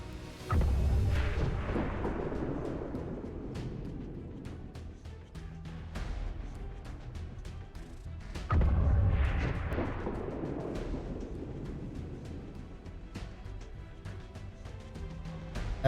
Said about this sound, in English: if you move here, you can probably throw a grenade to hit most of them.